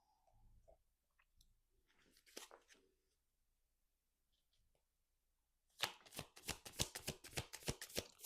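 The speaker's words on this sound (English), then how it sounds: "let me pull some oracle cards for you guys" Oracle cards shuffled by hand in a quiet room: a rapid, loud run of crisp riffling flutters near the end, after a few soft card handling rustles and taps.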